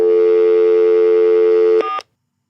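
Phone tones after a call is hung up: a loud, steady electronic tone holds for almost two seconds, then a couple of quick clicks and a short final beep before silence.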